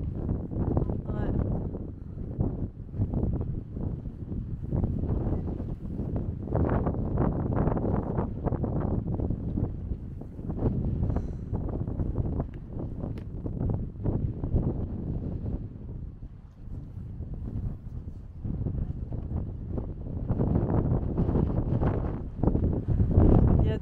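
Strong gusts buffet the microphone outdoors near pelicans, a steady low roar and rumble filling the whole stretch with fluctuating bursts, with no clear speech over it.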